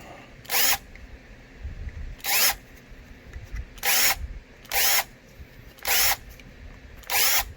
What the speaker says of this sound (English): Countersink bit.